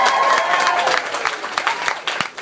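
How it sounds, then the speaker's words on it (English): An audience at a summer cruise concert at a Chick-fil-A in Port Charlotte, Florida applauds the drummer, with dense clapping that thins into scattered claps, plus faint crowd voices. "Give him a round of applause."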